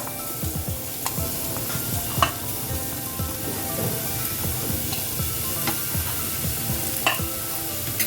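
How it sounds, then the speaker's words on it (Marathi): Onion frying in a pan for a Malvani Gokulashtami offering, a steady close sizzle with repeated stirring scrapes and soft clinks throughout, no voices. "कांदा सुकत वाढलो की लवकर भाजता हे बघ आता कांदो लाल होत हा"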